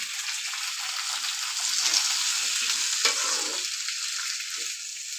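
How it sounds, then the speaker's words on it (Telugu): Chopped tomato pieces sizzle steadily in a pan while being stirred, the frying hiss continuous and close with soft scraping movements through it, no voices. "ఒక 2-3 సార్లుగా అయితే ఇలా కదుపుకోవాలి మొత్తము, కింద మీద మీద మీద కిందకు పోయేటట్ట"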